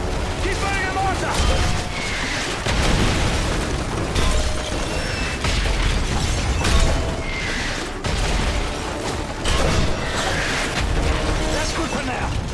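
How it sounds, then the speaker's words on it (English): Mortar shells in Call of Duty Modern Warfare 3 explode in repeated heavy booms against village targets amid battlefield noise and gunfire, with voices speaking over the combat. "If it moves, put a mortar shell on it. Keep burning the mortar!"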